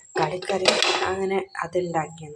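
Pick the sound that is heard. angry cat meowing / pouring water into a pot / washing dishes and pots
washing dishes and pots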